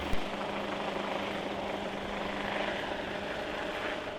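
Prototype KC518 single-turbine helicopter with an all-composite carbon-Kevlar fuselage, heard as a steady, loud turbine and rotor roar holding constant throughout, with a brief knock near the start and no voices.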